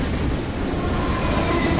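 Loud, dense rumble of a train rolling past in the PC game Terminator Salvation, continuous and close, with rattling noise filling the whole moment.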